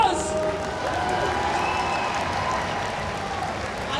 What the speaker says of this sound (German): Hier ist David, großen Applaus!